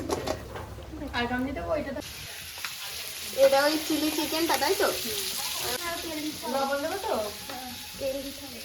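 Pakoras fry in hot oil with a faint, steady sizzle in a home kitchen where several dishes are cooking, mostly under people talking nearby.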